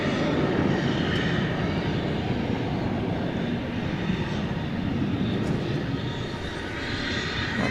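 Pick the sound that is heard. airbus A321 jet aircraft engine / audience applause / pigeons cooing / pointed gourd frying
airbus A321 jet aircraft engine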